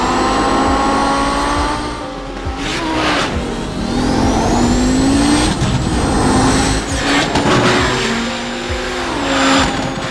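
A 1989 Audi 90 IMSA GTO race car in the iRacing simulator revs and accelerates hard, engine pitch climbing through repeated gear shifts with brief dips, loud and close, tires squealing faintly.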